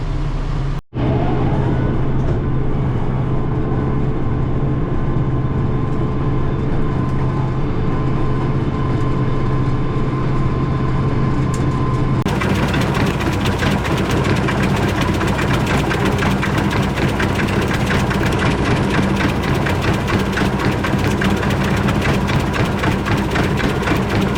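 A farm tractor engine runs steadily while side-dressing pumpkins with nitrogen, a loud, close, continuous low drone with a steady hum, after a sharp knock near the start it grows rougher and more clattery partway through, with no talking.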